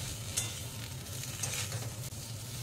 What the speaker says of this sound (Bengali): আবার একটু কষিয়ে নেব।